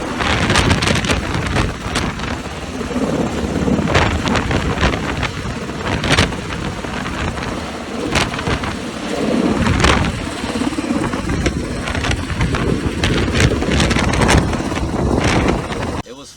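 Black Hawk helicopter at an air assault school airfield, a steady rotor and engine roar running throughout with gusty wind buffeting and voices talking over it.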